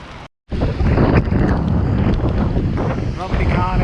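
Strong wind blasts across a microphone on a wild day on the Pembrokeshire coastal path, a loud, continuous rumbling buffet with a brief drop-out near the start.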